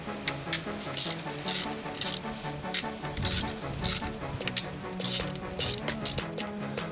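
A ratchet clicks in quick, rhythmic bursts while removing the oil pump from an RB26 engine short block, loud and close with short pauses between strokes and no talking.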